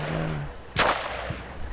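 A single sharp gunshot crack with a quick tail rings out over steady background rumble as troops lay suppressing fire on an RPG position in a modern war game, followed by a fainter distant thump.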